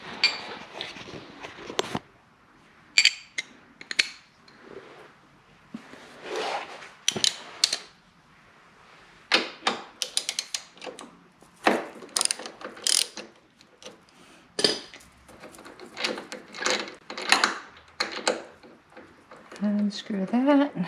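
A ratchet with socket and extension loosens a retaining bolt on the highway bar of an Indian Challenger motorcycle, giving repeated bursts of sharp clicking separated by pauses, with a voice talking in between.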